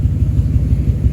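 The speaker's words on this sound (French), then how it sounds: "Regardez, le réacteur, il est allumé." A jet turbine engine runs inside a custom Batmobile-style show car at a Monaco night event, giving a steady, loud, close low rumble with a pulsing throb and no break.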